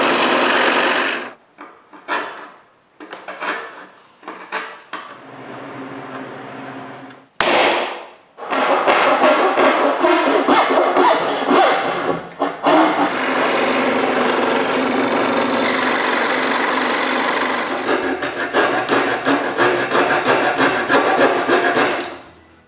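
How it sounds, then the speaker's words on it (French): A scroll saw cuts wooden drawer parts for a water cabinet, its steady buzzing rasp loud and continuous after a few short bursts and pauses at the start. "Je coupe des parties avec ma scie à chantourner aussi."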